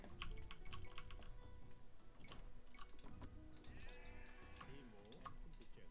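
Age of Empires II sheep let out several bleats, quiet but distinct, over a busy game background of clicks and small ticks, with no talk.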